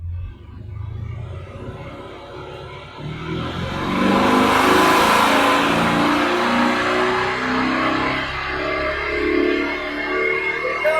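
A Lamborghini Urus engine revs up, its roar swelling and holding at a loud, high pitch before easing slightly, close by and steady with no voices.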